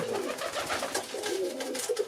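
Crested pigeons coo softly inside a loft, a series of low, rolling calls repeating over a faint background hum.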